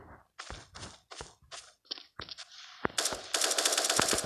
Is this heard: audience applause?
no